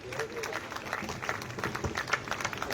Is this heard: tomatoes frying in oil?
no